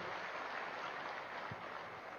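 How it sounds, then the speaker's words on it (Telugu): An audience at a Patriji pyramid meditation gathering in Tirupati claps in a dense, steady wash of applause, heard at a distance and fairly quiet, with no break in the clapping. "గట్టిగా చప్పట్లు కొడదాం కృష్ణమోహన్ గారికి"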